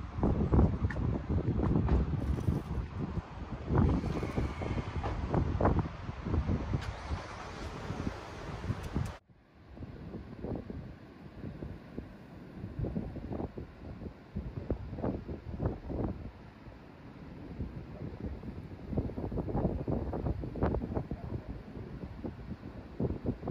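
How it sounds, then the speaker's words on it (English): Wind gusts along the coast buffet the microphone in rumbling, uneven bursts, loud and close throughout, with a sudden drop in brightness partway through. "It's a little windy."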